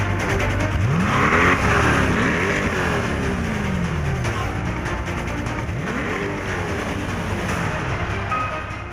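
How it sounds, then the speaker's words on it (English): Mid-engine Chevrolet Corvette revving, its engine note rising and falling in several sweeping pulls over steady loud broadband noise, close and continuous with no talk. "it is a completely redesigned mid-engine Corvette"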